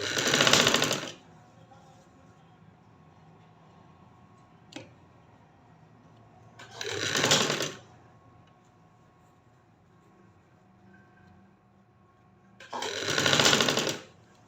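A sewing machine stitches a gharara garment for a one-year-old baby girl in three loud, close, whirring bursts of about a second each, with quiet pauses of several seconds between them and faint background noise.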